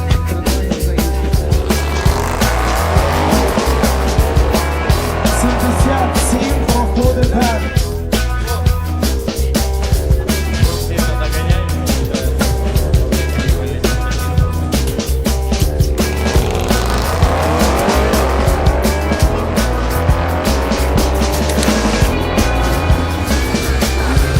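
An Audi RS7 drag racing car accelerates hard down the strip at a Ukrainian drag racing championship, a loud, dense, continuous engine roar with rising sweeps as it gathers speed and no talk over it.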